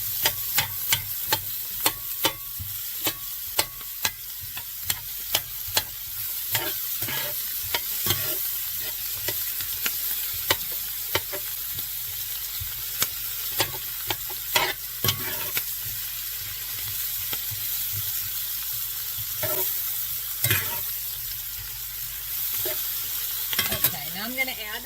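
Chopped onion frying in a pan for shrimp scampi gives a steady, fairly quiet sizzle, broken by frequent sharp clicks and scrapes of a utensil stirring against the pan.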